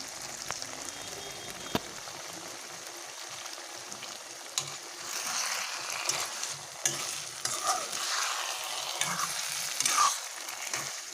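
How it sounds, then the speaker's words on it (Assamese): Eggs being stirred into frying potatoes in a pan for egg curry, a soft steady sizzle with scraping and stirring that grows busier and louder midway, no talk. "কণীকেইটা দি অকণমান সময় লৰাই থাকিব লাগিব।"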